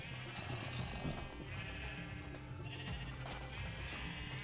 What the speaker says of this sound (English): as you can hear from all the I have a bunch of sheep around.